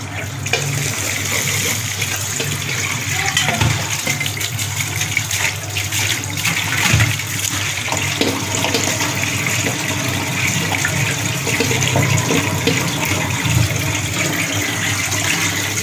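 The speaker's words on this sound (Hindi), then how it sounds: "इस पे हम डालेंगे ठंडा पानी पहले" Cold water poured from a tap over drained boiled macaroni in a home kitchen gushes steadily and loudly for the whole stretch, a continuous splashing wash with no talk.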